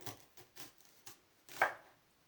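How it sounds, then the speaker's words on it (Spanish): A knife slices an onion in half on a cutting board, giving several separate crisp chopping thuds in an uneven rhythm, with the last stroke the loudest and sharpest. "voy a partir de la mitad a la cebolla"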